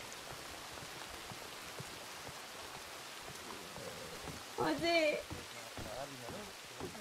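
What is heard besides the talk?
rain falling in video game RedM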